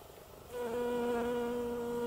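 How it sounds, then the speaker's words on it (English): A small bee buzzes steadily up close, its droning hum starting abruptly and holding for a couple of seconds with no voices. "Tiny, tiny little bee on there."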